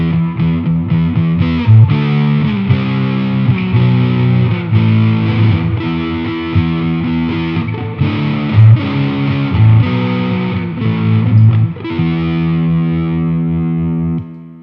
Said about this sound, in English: Try adding a little bit of dirt for a heavier type of song.